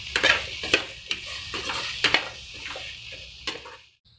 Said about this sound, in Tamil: நல்லா மசாலாலாம் காயோட நல்லா கிளறி விட்டாச்சு.